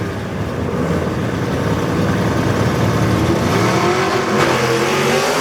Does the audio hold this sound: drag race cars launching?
yes